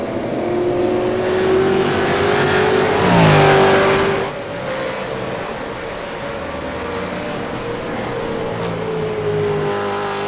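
V8 race cars at Silverstone roaring loudly under commentary, engines droning with rising and falling pitch as cars pass, one especially close and loud pass near the middle before the field settles into a steadier distant drone.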